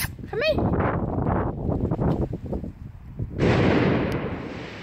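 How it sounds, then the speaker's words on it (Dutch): Fireworks going off outdoors, a run of dull booms and crackling bursts, some distant, with a whistling rise at the start and a hiss of noise near the end. "Dat was vuurwerk, hè."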